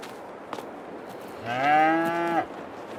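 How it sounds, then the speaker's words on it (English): A single cow moos once, clear and sustained for about a second, in the Farming Simulator 22 video game over a steady low ambient background. "Let me check on the cows here quick."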